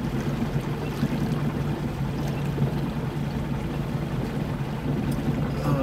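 Low, steady rumble of a boat engine idling as the boat turns in a tight circle, with water sloshing and churning close by; no voices.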